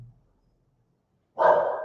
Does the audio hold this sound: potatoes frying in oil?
no